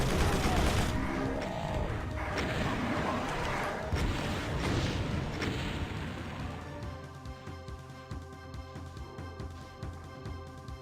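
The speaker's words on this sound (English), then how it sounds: "rockets coming from everywhere" In a Doom community map, rockets explode in a dense, chaotic barrage of booms and blasts during the first half, then thin out into quieter game noise and ringing tones.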